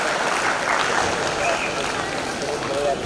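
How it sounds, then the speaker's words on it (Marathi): Audience applause fills a Maharashtra State Film Awards ceremony, a steady dense wash of clapping sustained throughout at even loudness. "जोरदार टाळ्या जरा होऊ दे, जरा जोरदार टाळ्या"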